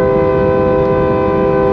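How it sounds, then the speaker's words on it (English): Train horn blasting in an outback camp setting, a loud sustained steady multi-tone blare running the whole time. "playing with his train horn"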